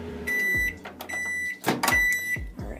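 A microwave oven hums while running, then gives several sharp, clear electronic beeps in short bursts, close by, with some handling clatter and no talk.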